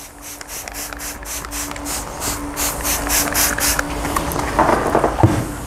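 A spray bottle of All Clean cleaner diluted 1:10 with lukewarm water is squirted onto a convertible top, giving a rapid series of short hissing spritzes, close and steady.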